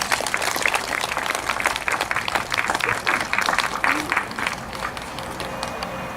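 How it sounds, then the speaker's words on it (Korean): Audience applause greeting performers before a Korean changgeuk (traditional musical drama) about An Jung-geun at a commemorative event, steady dense clapping throughout with crowd noise and a few voices mixed in. "우리 사랑채 우리 박수로 맞이해 주시기 바랍니다"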